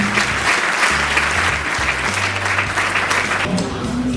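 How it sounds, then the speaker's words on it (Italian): Sustained applause from an audience at the Miss Earth Italy pageant at Hotel Park Venice, honoring the event's patron; dense, steady clapping throughout with a faint low hum underneath and no clear talk. "io direi che possiamo fargli un grande applauso per questo impegno"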